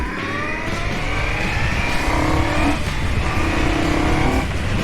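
A motorcycle engine revs hard while riding on a public road, its loud, continuous pitch climbing and dropping through repeated throttle pulls, with no talking.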